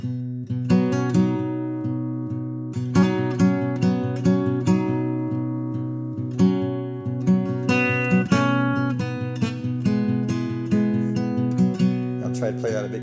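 An acoustic guitar plays a quick, simple fingerpicked pattern, the notes plucked in a steady repeating rhythm, close and clear with no voice over it.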